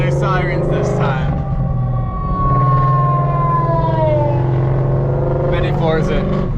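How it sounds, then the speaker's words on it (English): Emergency vehicle sirens wail on a road, a loud rising and falling tone sweeping over a running car engine while voices talk over it. "there's sirens this time."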